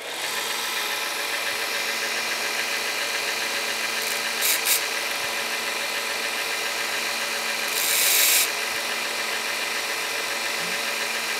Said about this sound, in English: So it's fired up. I'm going to go against a slack belt anyway